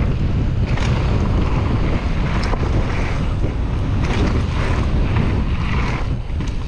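Strong, steady wind roaring across the microphone of a moving bike, a dense continuous buffeting rumble that stays loud and unbroken throughout with no voices.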